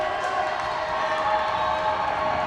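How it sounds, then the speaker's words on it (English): A crowd at a boys high school basketball game between North Branford and Haddam-Killingworth keeps up a steady, dense wash of cheering and noise during foul shots. The roar is loud and even throughout, with no distinct individual voices standing out. "Crowd definitely getting into it more now."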